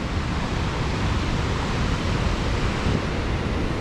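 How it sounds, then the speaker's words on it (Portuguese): Rainwater rushes and pours steadily beside a roadside after days of heavy rain, a loud, continuous broadband roar with no pauses and no voices. "Tem água caindo pra todo lado"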